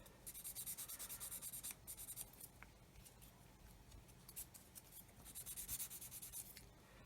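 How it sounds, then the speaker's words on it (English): A wet sanding stick rubs rhythmically across a resin plug on a 1/48 Eduard Typhoon Mk.1b scale model, quick close scratchy strokes in fast bursts with a softer stretch in the middle. "I'm going to come along now with a sanding stick"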